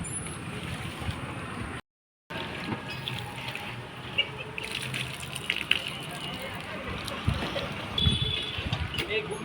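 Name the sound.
water running from a public tap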